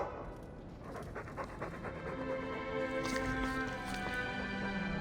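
A dog pants steadily in Dragon Age 2, a rapid breathy rhythm running for several seconds close up over a low game ambience, with no talk.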